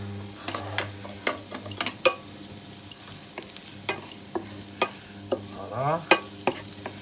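Ceps being added to a pan with onions and garlic, giving a steady low sizzle broken by sharp clacks and scrapes of a utensil stirring against the pan; sporadic knocks recur throughout with no talking.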